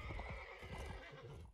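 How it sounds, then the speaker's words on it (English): A horse in the Mount and Blade video game lets out a loud, close, continuous whinny, with faint hoof thuds underneath. "No, bad horse."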